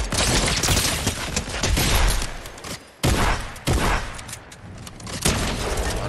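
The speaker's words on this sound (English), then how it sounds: "That was many bullets." Dense, loud volleys of gunfire in Fortnite, many bullets fired in rapid bursts that nearly fill the clip, with a brief pause near the middle.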